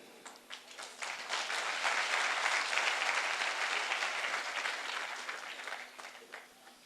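Applause from an audience at a network marketing motivational seminar, starting with scattered claps, swelling into a steady round, then thinning out toward the end, faint and with no talk.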